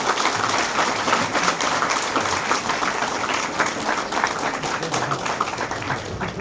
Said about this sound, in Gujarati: તાળીઓ વાગતી રહે એક મિનિટ